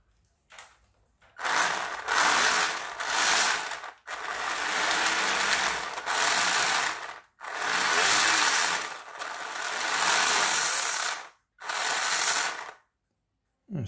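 The motor and gears of a 3D-printed RC conversion of a cheap toy car whir and ratchet in several loud, close bursts of a few seconds each, separated by short silences.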